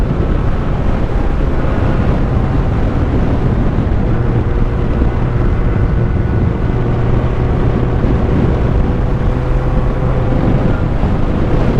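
Loud, constant wind buffets the microphone of a Honda CB700SC Nighthawk motorcycle riding up a canyon, a heavy low roar, steady throughout with no pauses.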